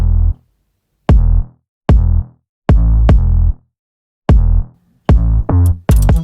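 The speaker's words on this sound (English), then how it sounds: "A solid 808 is the classic choice for Girl Crush and is what we use too." Deep, solid 808 bass notes hit in short, punchy bursts in a K-pop girl crush style verse, with gaps of silence between them. A faster cluster of hits comes near the end, loud and close with no voices.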